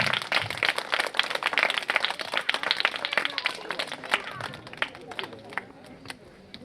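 Audience applause at a retirement function, a dense run of many hands clapping that stays steady for several seconds and gradually thins toward the end, with no talking over it.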